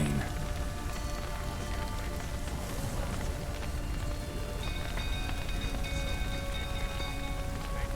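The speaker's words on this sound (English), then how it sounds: "Looks like rain." Steady rain pours down in The Witcher 3, a dense, even hiss of drops on surfaces with faint tonal background elements, continuous throughout with no talking.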